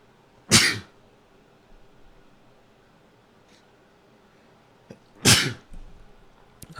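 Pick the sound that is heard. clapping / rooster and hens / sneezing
sneezing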